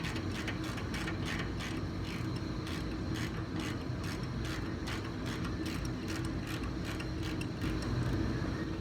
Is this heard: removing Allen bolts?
yes